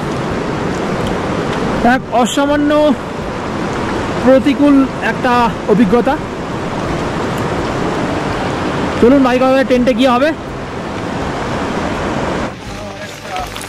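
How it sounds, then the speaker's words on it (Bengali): Steady broadband rush of a fast-flowing mountain river beside the trail on the Kashmir Great Lakes trek, running continuously beneath a voice talking in bursts. "দেখুন খরস্রোতা নদী বয়ে আসছে"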